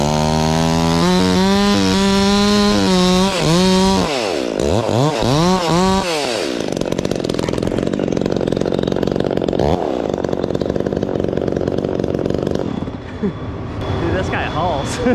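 A Stihl MS 400c chainsaw runs loud and close, its engine climbing and falling through revs before holding a high full-throttle scream, with brief voices heard at the start.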